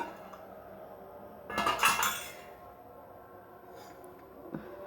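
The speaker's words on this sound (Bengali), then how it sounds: "একটা কাঁটা চামচ আমি ঢাকনাটা উঠিয়ে নেব, কারণ আমার ঢাকনাটা খুবই গরম, স্টিলের ঢাকনা যদি।" A hot steel lid is pried up with a fork, giving one short metallic clatter and scrape. Quiet room noise comes before and after it, and a faint single clink follows near the end.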